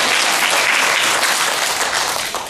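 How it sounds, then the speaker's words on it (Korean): An audience at a Buddhist meditation and Seon discussion session applauds loudly, a dense, continuous wash of many hands clapping that fills the room and tapers slightly at the end. "네, 박수 크게 하세요."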